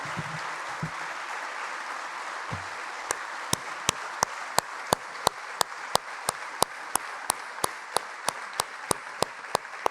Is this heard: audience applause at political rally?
yes